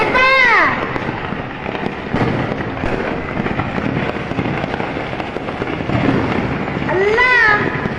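Fireworks and firecrackers crackle and pop in a near-continuous barrage during a fire at a Philippine market stall selling them, while people talk and shout over the noise.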